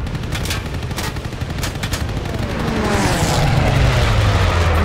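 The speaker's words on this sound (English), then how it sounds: "Enemy anti-aircraft fire. Oh, anti-aircraft again." Enemy anti-aircraft fire in a WWII dogfight game, rapid bursts of gunfire crackling near the start, then a rising engine drone as a plane swells louder toward the end.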